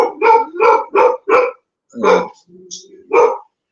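A dog barks at a passing motorbike on a Thai roadside: four quick, loud barks close by, a pause, then a longer bark, a low growl, and one more bark.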